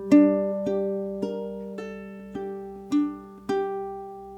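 A ukulele plays an etude intro with hammer-ons and pull-offs, a short run of bright plucked notes over a ringing chord, about eight attacks in steady rhythm, close and solo.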